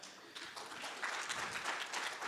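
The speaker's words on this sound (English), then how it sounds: "A bigger round of applause, please." Faint, distant clapping from a demo day audience at an evening startup cohort showcase, a soft continuous patter that holds steady for a couple of seconds.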